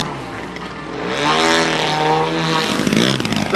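An RC model airplane propeller holding a 3D aerobatic hover after a snap roll, a loud steady buzzing drone that swells and wavers in pitch as the throttle works, heard close with no talk.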